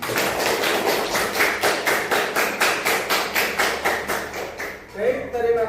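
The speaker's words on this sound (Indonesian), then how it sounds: "Kalau menyenangkan, tepuk tangan buat kita bersama-sama." A classroom of students claps in unison, loud steady rhythmic hand claps for about five seconds before a voice speaks.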